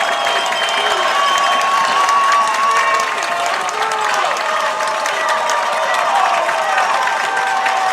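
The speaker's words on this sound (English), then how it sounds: "And this Hersey crowd on their feet for this 3rd down." A high school football crowd at a Hersey varsity game against St. Rita roars and claps steadily on its feet for a third down, a dense, loud wash of cheering that never lets up.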